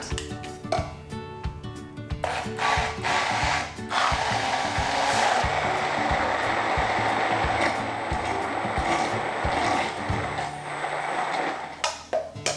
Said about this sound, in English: Now we're just gonna immersion blend this or put it in the food processor until it's all combined.